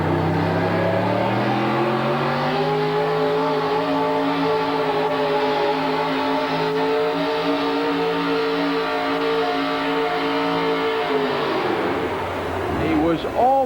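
A 1984 Chevy truck called Yellow Fever roars under load on a full pull attempt at an indoor motorsport event, its engine note climbing and holding loud and steady, then cutting off abruptly near the end, with crowd or announcer sound underneath.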